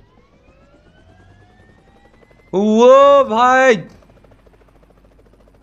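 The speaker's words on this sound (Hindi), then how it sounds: "भाई साहब हेलीकॉप्टर भी आ गया" A helicopter roars in loudly in PUBG Mobile, a strong harmonic whine and rotor drone swelling for about a second, dipping briefly, then cutting off, over faint background game noise with a short spoken exclamation.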